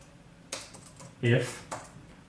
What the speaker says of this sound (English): I'm going to type in equals COUNTIF